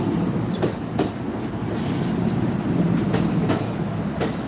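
An Amtrak train on the Northeast Corridor near South Amboy rolls past close by with a loud, steady rumble, its wheels clicking rhythmically over rail joints throughout.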